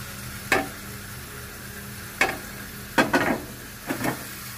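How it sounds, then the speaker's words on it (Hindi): Marinated chicken tikka pieces fry in a pan over the flame with a steady low sizzle, broken by four or five sharp scrapes and clatters as they are placed and stirred. "अब हम इसको फ्राई करेंगे।"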